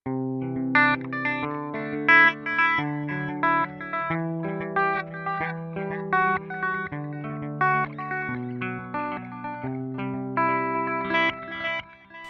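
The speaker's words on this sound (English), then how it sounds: "We can hear a ping pong delay, a dual delay." Clean electric guitar through a Line 6 POD Go ping pong stereo delay picking a melody, each note echoing back and forth in repeating delayed copies, with a slightly driven, effected tone.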